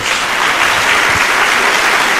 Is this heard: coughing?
no